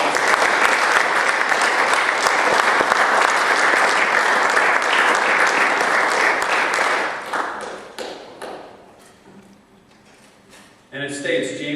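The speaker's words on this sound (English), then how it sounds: "We'll give a round of applause." A round of applause at a city council meeting, a dense crowd clapping loudly for about seven seconds, then thinning out to scattered claps and quiet before a voice resumes.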